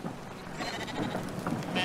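Sheep bleating in the video game Brothers: A Tale of Two Sons, a few short wavering bleats over a soft outdoor game ambience, fairly close and with no talking.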